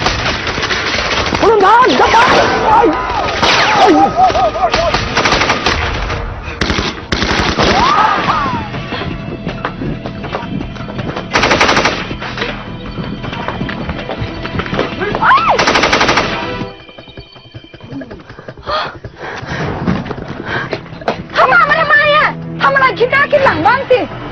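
Gunfire in a Thai action drama scene: sustained machine-gun bursts and scattered shots, loud and dense, under urgent shouting, with a short lull before more shots resume.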